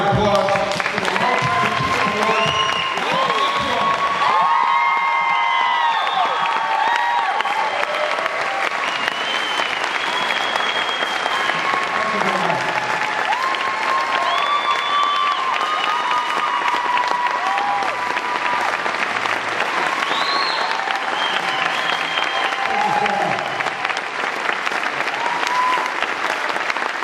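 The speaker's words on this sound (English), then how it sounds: "Let's give a big round of applause for the" A large audience at a lifetime achievement award ceremony for a band leader gives sustained, dense applause for nearly half a minute, with scattered cheers and whoops mixed in throughout.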